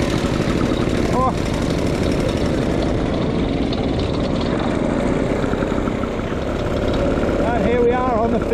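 Vintage Royal Enfield motorcycle engine running steadily on the finishing straight of a vintage bike ride, a continuous loud engine drone with wind and ambient noise, and a person talking over it.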